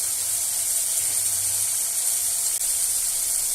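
Eggplant and coconut sautéing in a pan give a steady, dense hiss that runs unbroken through the whole stretch with no voices.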